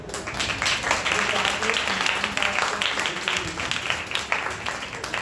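A church congregation claps together during worship, a loud, fast, continuous patter of many hands that fills the room from start to finish.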